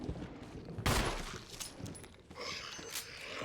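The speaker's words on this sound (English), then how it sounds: "Let's back up and shoot this zombie." Gunshots fired at a zombie in Resident Evil 1, one loud sharp blast near the start followed by a couple of fainter shots over a steady game ambience.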